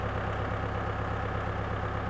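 A tractor engine idles nearby with a steady low rumble and even throb on a homestead tree-planting site, continuous and unbroken with no voices.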